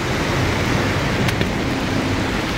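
Heavy rain drums steadily on an open umbrella outdoors, a loud, dense, unbroken hiss that fills the whole stretch with no voices.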